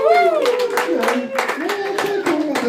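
An audience at a comedy night in Maggie Myers Irish Pub claps in a loud burst of overlapping hand claps, while a performer speaks over the applause.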